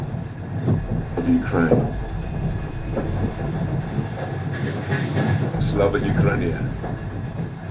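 Steady rumble and rhythmic wheel clatter inside a train crossing remote countryside in Ukraine, loud and continuous, with someone speaking over it.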